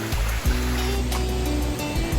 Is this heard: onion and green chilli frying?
no